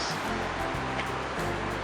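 A river in Slovenia flows beneath a bridge, a soft, steady rushing wash heard at a distance and faint, with no one speaking.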